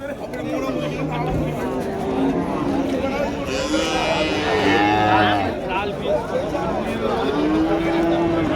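Native-breed bulls low at the Vaniyambadi cattle market, repeated moos sounding through continuous chatter and nearby voices in a busy outdoor crowd.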